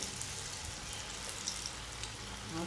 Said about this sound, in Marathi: आता हे मी सर्व भाजून घेते